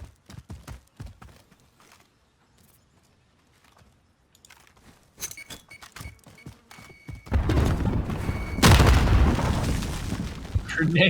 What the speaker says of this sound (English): Grenades coming out back and forth.